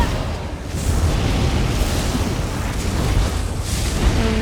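Fireworks burst in Elder Scrolls Online, a loud, dense wall of booming explosions that rolls on without pause throughout, with no voices.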